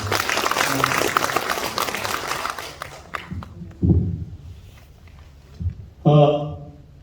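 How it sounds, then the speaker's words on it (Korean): An audience at a Korean book launch gives a short round of applause for an honored senior member, brisk clapping for about three seconds before a voice resumes talking amid a few thumps. "우리 임수 선배님께 박수 한번 보내주시겠습니다"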